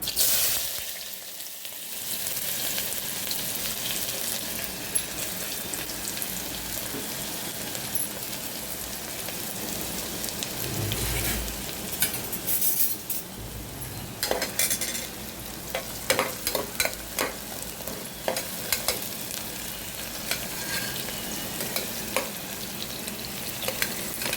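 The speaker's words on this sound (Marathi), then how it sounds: "तेल घातले आता मी कुकरमध्ये. आता आपण हा कांदा घालून घेऊया." Onion frying in oil inside a pressure cooker, a steady close sizzle running throughout with occasional stirring scrapes and clinks of a spoon against the metal pot, no talking.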